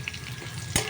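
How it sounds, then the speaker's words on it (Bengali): Onion with nigella seeds and small chillies frying in oil, a brief steady sizzle that flares into a sharper crackling burst just before the end, with no voices. "এটা একটু ভাজা হোক"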